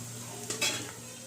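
French fries bubble in hot oil while a spoon stirs them, one brief faint scrape and clatter rising over a quiet, steady sizzle.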